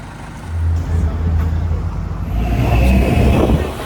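A car pulls up nearby in Puerto Vallarta, its engine rumbling low and steady, rising slightly as it arrives, with faint murmurs in the background.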